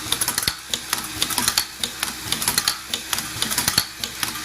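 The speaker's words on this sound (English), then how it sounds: "Zipper goes through the machine from here." A nylon #3 zipper slider mounting machine with a pin box and vibrator runs up close, giving rapid irregular mechanical clacks and ticks in a busy rhythm with no talk.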